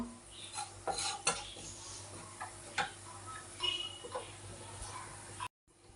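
Fenugreek seeds fry in hot oil at the start of a fish curry, with a steady crackling sizzle, scattered small pops and occasional light clinks of utensils close by.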